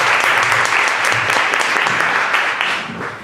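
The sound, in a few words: applause from the audience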